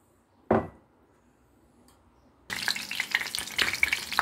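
Eggplants drop into hot oil in a frying pan for imam bayildi. A single soft thump comes first, then near silence, and then a loud, crackling sizzle starts abruptly and carries on to the end.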